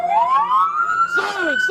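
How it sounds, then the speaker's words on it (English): A loud, close police car siren wails upward in pitch during a chase, joined by a second siren sweeping and overlapping near the end. "Everybody kill your sirens."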